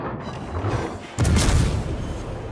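Warship artillery gunfire in World of Warships: a heavy, sudden booming salvo breaks out midway and rumbles on afterward over a low, continuous background roar.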